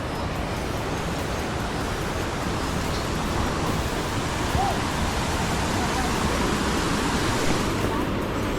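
River water near Kalu waterfall in the Sahyadri hills by Malshej Ghat rushes in a steady, dense roar. The flow stays loud and unbroken throughout, with no distinct talk.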